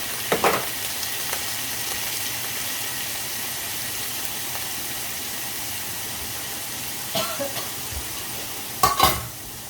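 Minced pork stir-fried in a pan for a konjac-noodle spaghetti dish with dried chilli, giving a constant close sizzle with a few clattering scrapes of the spatula near the start and again toward the end.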